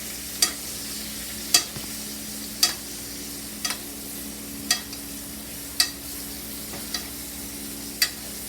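Thyme is stirred in a sizzling pan, a spoon scraping the pan in eight evenly spaced strokes over a constant soft frying hiss.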